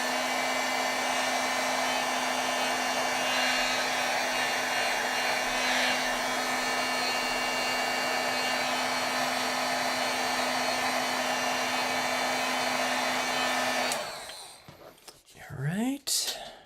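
A hair dryer drying ink on rubber-stamped eagle images runs as a loud, steady whirring hum for most of the clip, then cuts off abruptly, leaving faint handling noises.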